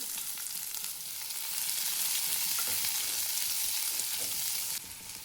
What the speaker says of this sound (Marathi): 2 कांदे उभे कट करून घेतले. तेलामध्ये भाजून घ्यायचे.